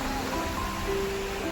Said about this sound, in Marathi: पावसाळी वातावरणामुळे समुद्राचं रूप आणखी रौद्र आणि सुंदर झालंय